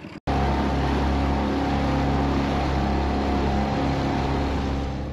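Twin boat engines idling steadily during pre-departure checks before a sea crossing to Guadeloupe, a loud, continuous droning hum with strong low tones that starts abruptly after a brief pause and holds evenly throughout, no voices.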